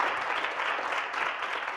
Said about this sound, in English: a round of applause for Dr. Titley.